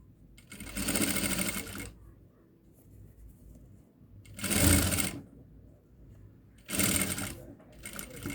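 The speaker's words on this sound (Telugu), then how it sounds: "ఇలా డబల్ ఫోల్డ్ చేసి కుట్టేయండి" A sewing machine stitching a double-folded hem on a dhoti, three separate bursts of fast whirring at close range with quiet pauses between.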